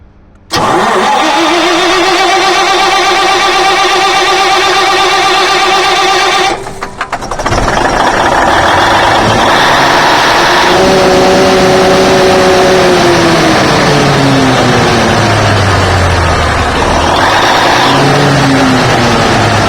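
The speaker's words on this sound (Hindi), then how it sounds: "अब हम चलाएंगे इसको, डीजी को सेल्फ लगाएंगे।" A diesel generator is cranked by its self-starter after air lock bleeding, churning briefly before catching with a loud burst, then settling into a steady, loud, close running drone with shifting engine tones.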